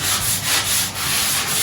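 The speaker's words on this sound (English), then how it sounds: "Sanding down the walls, getting all the glue particles removed." Steady rhythmic scraping and rubbing of sandpaper on a wall, removing glue residue, close and continuous with regular strokes.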